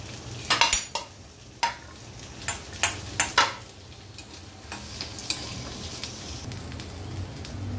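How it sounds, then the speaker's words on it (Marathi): Onion sautés in hot oil in a pan with a soft steady sizzle, broken by several loud scraping clatters of a spoon stirring against the metal early on, then settling into quieter frying. "त्या तेलामध्ये आपण परतून घेणार आहोत कांदा"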